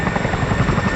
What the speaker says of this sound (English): monitoring the height of the aircraft as she comes into land